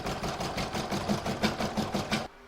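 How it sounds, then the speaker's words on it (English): An embroidery sewing machine stitches down fabric on an in-the-hoop crazy patch bag, its needle running in a steady rapid rhythm close by before stopping abruptly. "pop it back in my machine, and it's going to stitch it down"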